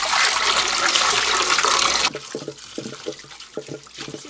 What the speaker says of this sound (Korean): 그리고 이제 헹궈주시고 난 다음에 이렇게 물에 조금 담가서 고사리 물을 조금 우려내 주셔도 됩니다